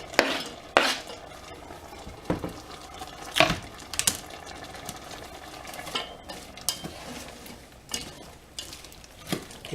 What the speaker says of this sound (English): Give that a nice stir and add our celery